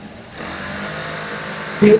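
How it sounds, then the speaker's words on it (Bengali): Feed-of-the-arm industrial sewing machine joining a back yoke on a garment, running as a steady, continuous motor whir close by for most of the stretch, with a brief louder burst near the end. "এটা হলো feed of the arm machine"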